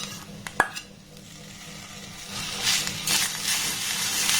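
Grated coconut and sugarcane jaggery being stirred in a pan over a low flame: a few quick spoon clinks at first, then soft scraping and a faint sizzle that swells slightly toward the end.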